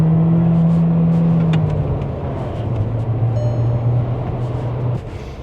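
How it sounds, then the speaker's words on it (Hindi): An SUV pulls away after being put in gear, its engine note rising and then holding a steady drone, heard from inside the cabin with road noise and no talk. "ये मैंने गियर में लगा ली है गाड़ी, और मतलब कि ये पीछे चिपका देती है यार ये गाड़ी"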